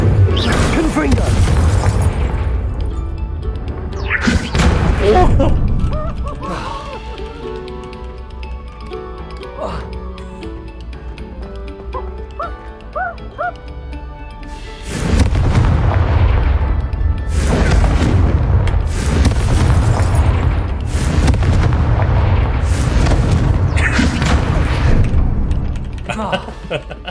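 Spell blasts from the Confringo fire spell in Hogwarts Legacy, loud booming bursts repeating at intervals over a busy game soundscape, with several heavy blasts clustered toward the end.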